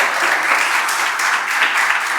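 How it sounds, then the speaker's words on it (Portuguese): Church congregation at a night healing and deliverance service clapping in praise, a dense continuous crackle of many hands close by, steady and sustained throughout with no talk over it. "Exalte o Senhor com as palmas nesta noite"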